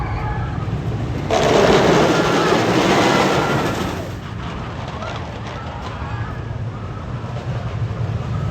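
El Toro, a wooden roller coaster at Six Flags Great Adventure, roars past as its train runs the track, a loud rushing rumble that swells and fades, followed by quieter ambient crowd noise.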